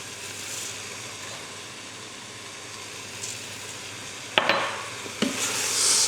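Rice is stirred into onions frying in oil in a pot, giving a steady close sizzle with soft scraping and a couple of sharp clinks of a utensil against the pot near the end.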